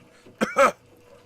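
A game master imitates a wet coughing fit with his voice, two short harsh rasping bursts close to the mic in a quiet room.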